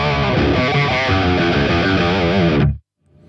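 High-gain electric guitar through a Mooer Preamp Live on bank two, preset three: a dense, heavily distorted chord riff held loud and thick, cutting off abruptly near the end.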